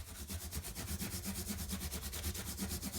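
Guitar frets on a vintage Seagull with a rosewood fretboard are polished by hand with 1500-grit micro mesh, making quiet, close, regular back-and-forth rubbing strokes at a brisk, even rhythm.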